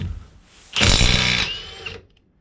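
An AEG cordless impact wrench unscrews a wheel nut, a loud close burst of rapid hammering whir lasting over a second before cutting off, set against a quiet workshop background.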